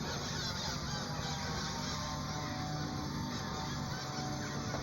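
A large flock of fifty or more parrots calling from the trees, a continuous dense chorus of harsh squawks at a moderate distance, with no talking.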